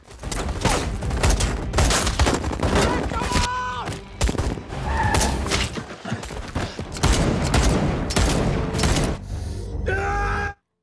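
Dense gunfire crackles in bursts through an attack scene in an Indian film, mixed with shouts and groans and a few short pauses, with a voice speaking over parts of it.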